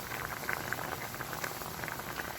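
Fish stew liquid boiling steadily in a pot, with a continuous bubbling rush and small pops rising through it, close by.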